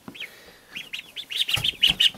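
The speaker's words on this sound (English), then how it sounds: "You guys love attention, don't you? Huh, little ducks? Always calling for attention." Young ducklings kept indoors make a run of thin, high chirping calls, sparse at first and then quicker and louder toward the end, with no voices over them.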